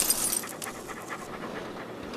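Steady, breathy dog panting coming from a played video, fairly close and continuous with no voices over it.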